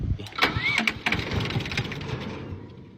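A military diesel generator engine cranks and catches on starting fluid, with a loud burst of combustion and rough mechanical clatter early on that settles into a steadier run and fades slightly toward the end.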